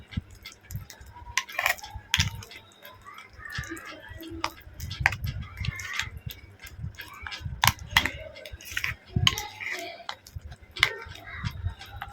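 A spoon stirring crushed Oreo biscuit batter in a bowl, giving scattered light taps, clicks and scraping sounds at an uneven pace, with a voice talking intermittently in between.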